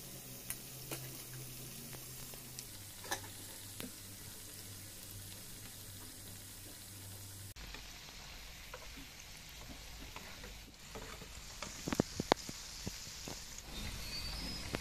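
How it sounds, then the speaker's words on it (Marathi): Cabbage bhaji dropped into hot oil for deep frying, a soft crackling sizzle with scattered pops and small clinks, quiet and close, briefly louder near the end. "आपलं तेलही इथे चांगलं तापलेलं आहे. यामध्ये आपण भजी घालून घेऊया."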